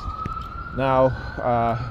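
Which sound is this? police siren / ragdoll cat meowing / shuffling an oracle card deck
police siren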